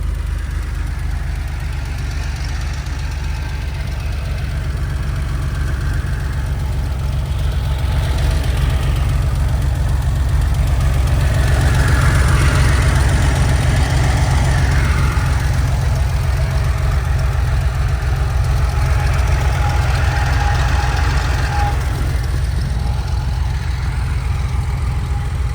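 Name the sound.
1979 Porsche 911 SC Targa engine idling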